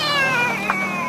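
A 12-year-old boy imitates a cat with one drawn-out, wavering meow, heard up close and clear with a brief bump partway through.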